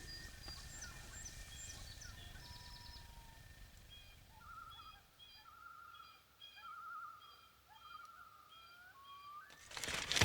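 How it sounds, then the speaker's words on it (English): Loons call faintly across a lake, long wavering tones and tremolo notes drifting from the far shore, quiet and distant over soft ambient noise, ending with a sudden close rustle. "It's always so cool to hear the loons. They must be on the other side of the lake."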